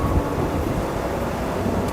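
Wind roars steadily through a snowy New York City street during a deep freeze, a continuous low rumbling gust close to the microphone with no talking.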